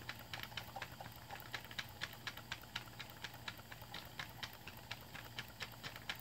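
A small Stuart Williamson live steam engine runs quietly, giving a steady, even train of light ticking and clicking beats over a soft, constant hiss, close by and with no talking.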